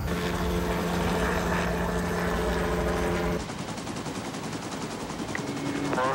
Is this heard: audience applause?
no